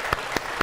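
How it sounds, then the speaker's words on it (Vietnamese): Audience applause greets a couple on a Vietnamese television dating show. Three sharp, broad bursts of clapping come at a steady, even spacing over a constant crowd wash. "Một tràng pháo tay cho cặp đôi ngày hôm nay."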